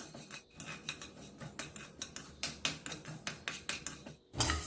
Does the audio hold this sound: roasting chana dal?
yes